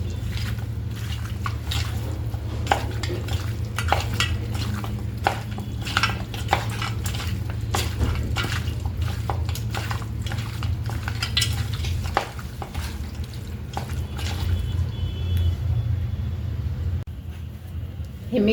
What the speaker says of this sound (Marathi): ते मिक्स करून घ्यायचं आहे सगळं